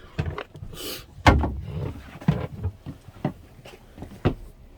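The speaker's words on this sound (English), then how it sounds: "Close the door." A door swings shut with a solid thud among a few other knocks and handling bumps, close by and fairly loud, aboard a 30-year-old, 34-foot Marine Trader boat.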